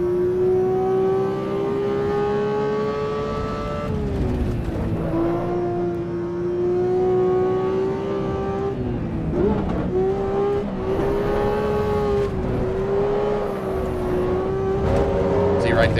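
A BMW in a racing video game, engine droning at steady high revs with pitch dips on shifts and brief tire-squeal sweeps as the car drifts, continuous and loud under occasional talk.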